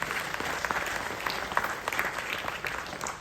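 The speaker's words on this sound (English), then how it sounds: "Let us give a big round of applause to all the volunteers." Steady applause from a conference audience for volunteers, many hands clapping densely at moderate distance with no clear talk.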